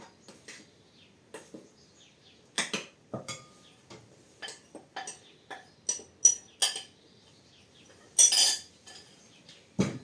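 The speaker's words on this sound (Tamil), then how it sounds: "இதை நன்கு கலக்க வேண்டும்." A whisk or spoon scraping and clinking against a bowl while carrot chocolate vanilla cake batter is mixed with baking powder, a series of sharp, irregular taps close by, with a louder rattling burst near the end.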